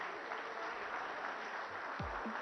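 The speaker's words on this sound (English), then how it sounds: "A huge round of applause, please." Faint, distant round of applause from an audience at a business CEO awards ceremony: an even, muffled wash of clapping that holds steady without breaks.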